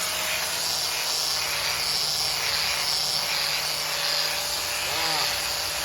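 Buffing wheel spinning against an aluminum control arm from a 4x4 racing setup, a steady loud high-pitched whir and hiss running continuously throughout with no talking.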